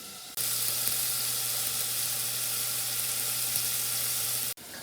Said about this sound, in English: So I got my bacon rendering here, and I got the pan on for the hot coleslaw